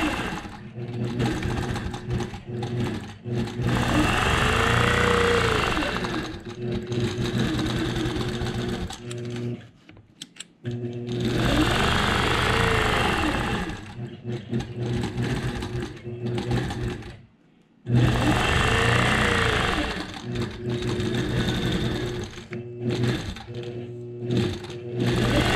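Sewing machine quilting a memory quilt in a large empty space, running steadily and loud up close, with a few brief pauses between long stretches of stitching and no talking.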